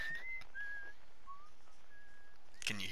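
Faint, thin whistled notes drift on the moon in the space exploration game Outer Wilds, a few separate wavering tones over a quiet background, ending in a short, louder burst of sound.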